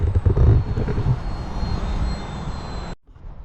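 An RC model airplane flies overhead, its small engine giving a loud, steady droning whine that cuts off abruptly near the end.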